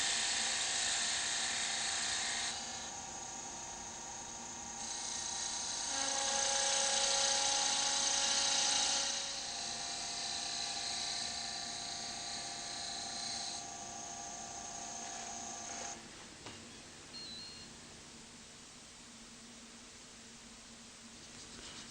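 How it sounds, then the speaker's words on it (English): Wood lathe spinning a workpiece while a spindle gouge turns the base, a steady high whine with shifting cutting hiss that drops away into a quieter motor hum. "Now turn the lathe speed back up as the workpiece is now running on centre."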